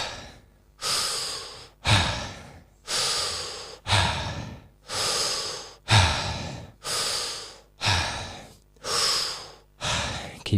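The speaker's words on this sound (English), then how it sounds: "From here on, 60 mouth breaths." Deep mouth breaths during a guided breathing exercise, about ten loud, close inhale-exhale cycles in a steady rhythm of roughly one per second, each ending in a sharp release.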